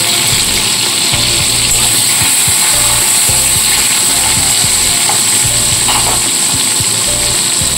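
Loud, continuous sizzling of tomatoes frying with salt in a hot pan, a dense hiss with occasional scraping and stirring taps, heard close up with no talking.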